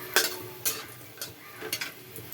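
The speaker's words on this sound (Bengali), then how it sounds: "তেল গরম হয়ে গেছে বড়িটা আগে ভেজে তুলে নিয়ে যাচ্ছি" Dried lentil dumplings (bori) fry in hot oil, a quiet, close sizzle broken by several soft scraping stirs at an uneven pace.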